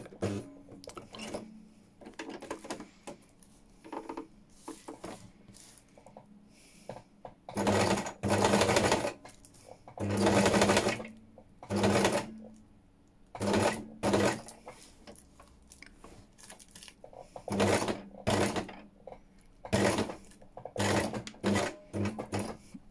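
A sewing machine stitches through thin tissue on a junk journal cover topper with botanical fabric embellishments, running in repeated short bursts of rapid whirring, close up and fairly loud, with quiet pauses between runs.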